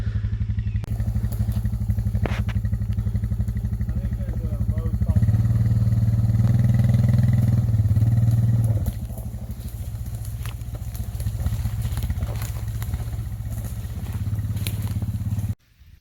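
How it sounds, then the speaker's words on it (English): A four-wheeler ATV engine runs steadily while hauling a dead deer up a steep wooded hill, a loud continuous motor drone that rises and strains midway, then settles before cutting off at the end. "We're gonna see if we can get this thing on the four-wheeler and get her out of here"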